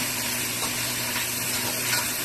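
Powdered seasoning and ingredients sautéing together in a pan for a Jamaican coconut curry, giving a steady, even sizzle close by with a constant low hum underneath and no talking.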